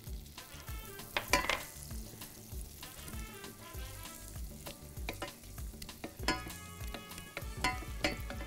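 Butter and flour sizzle in a pan as the base for a cheese sauce, a close crackling fry broken by scraping stirs and clinks of a spoon, with no talking.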